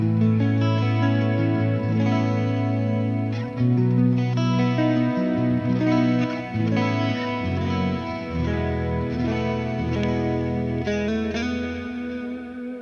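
An electric guitar on its neck pickup plays chords and melodic lines through a Kemper profile of a Mesa JP2C amp with a warm, slightly distorted, effect-laden tone, steady and loud throughout.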